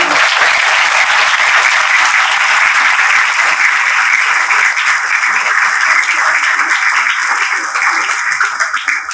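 A large audience at a school honouring function gives a big, sustained round of applause, dense loud clapping that fills the space for the whole stretch and tapers only slightly at the end.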